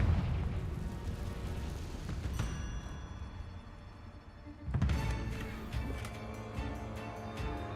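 Confringo blasting spells from Hogwarts Legacy land as two heavy booms a few seconds apart, each with a sharp crack and low rumble, over a continuous background of game music and ambience.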